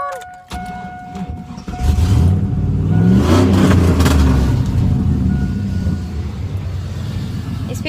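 An LSX engine-swapped Chevy car revs hard, a loud close roar that climbs after a brief start, holds steady at high revs and then eases slightly while staying strong to the end.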